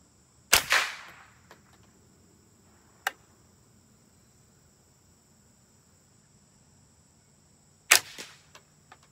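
Suppressed .22 LR rifle fired outdoors, two sharp, fairly quiet cracks several seconds apart with a faint tick between them, and a quiet background with no talking.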